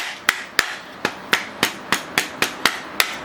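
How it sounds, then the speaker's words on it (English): An ESEE 4 knife repeatedly snapping into an Armatus Architect sheath gives about eleven sharp, evenly spaced clicks in quick succession, close and crisp with nothing else behind them. "On this one, you can hear the click."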